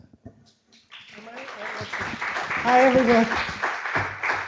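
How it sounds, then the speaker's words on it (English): A crowd claps steadily, building into sustained applause after a brief quiet start, with a voice speaking over it at the beginning. "I think we have to give applause to our panelists"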